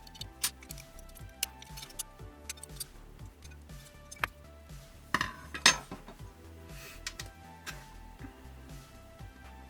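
Metal bolt being turned while the nut is held with pliers, giving soft irregular ticks, clinks and small metallic clatters close up, with a few sharper knocks midway.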